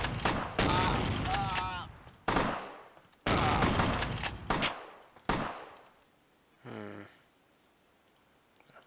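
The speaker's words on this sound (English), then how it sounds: "Thanks for the shotgun. How do you like shotguns? Pow!" A shotgun blast in Vampire the Masquerade: Bloodlines rings out once, a loud sharp report near the end, following bursts of talk and brief clicks.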